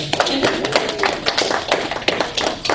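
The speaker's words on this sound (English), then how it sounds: "Round of applause for Brian right here." Applause from a crowd at a cosplay convention panel, a steady patter of many hands clapping close by, with scattered louder claps and a brief voice rising over it.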